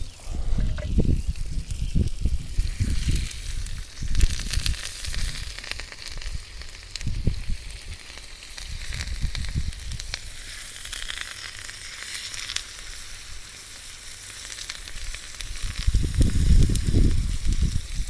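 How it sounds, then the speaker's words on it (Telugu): Fish frying in hot oil, a loud, close, continuous crackling sizzle with bursts of sputtering and spitting that rise and fall throughout. "ఇవి తిప్పుకొని ఒక 5 నిమిషాల పాటు వేయించాను"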